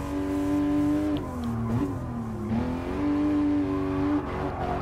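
A 2016 Porsche 911 GT3 RS race car overtaking in Gran Turismo Sport, its high-revving engine howling loud and close, pitch dipping and climbing through gear changes with a brief tire squeal.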